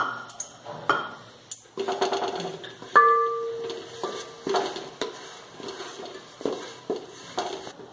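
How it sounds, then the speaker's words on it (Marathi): A spoon scrapes and stirs jaggery melting in ghee in a metal pot with soft sizzling, clinking against the metal in irregular strokes, close up with no talking. "हे गूळ आपल्याला असं ढवळत राहायचं आहे, जेणेकरून ते पातेल्याला चिकटणार नाही."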